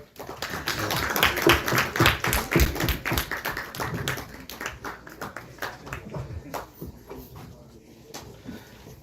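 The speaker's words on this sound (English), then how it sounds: "Can we please have a huge round of applause?" Scattered claps from an audience at a student prize distribution ceremony, loud at first and thinning out over several seconds into sparse individual claps.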